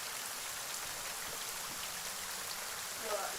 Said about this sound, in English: That waterfall is really loud.